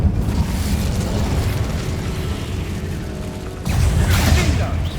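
A fire spell cast in the Hogwarts Legacy video game gives a loud, dense rumbling burst of flame, continuous throughout and swelling into a fresh whooshing surge near the end.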